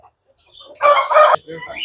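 A heavy, double-bodied Aseel rooster gives one short, loud, close crow that breaks off abruptly, with brief murmuring just after.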